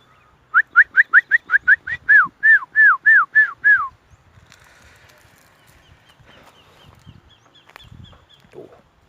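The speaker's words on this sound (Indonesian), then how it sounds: "Burung." A bird calls at a tea plantation with a fast run of bright, clear whistles. The notes then slow into longer, falling ones before stopping. Faint, sparse chirps follow in the distance against a quiet afternoon background.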